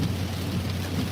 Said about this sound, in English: We're heading into a thunderstorm.